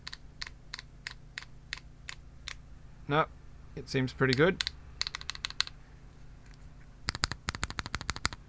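An aluminium HIBI artisan keycap on a mechanical keyboard is repeatedly flicked, giving sharp, quick clacks close by, interrupted by brief speech and ending in a rapid flurry of taps.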